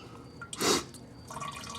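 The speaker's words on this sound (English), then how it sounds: "let that water run through there until all this green isn't coming out anymore and you have just straight water coming out" Water flushes through the coolant radiator of a 2003–2009 Yamaha R6 motorcycle, a brief gushing splash followed by a light, uneven trickle.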